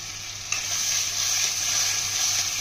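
Spices being fried and stirred in a pan during Bengali home cooking, with dried fenugreek leaves about to go in. A steady, close sizzle runs throughout, with scraping stir sounds and no talking.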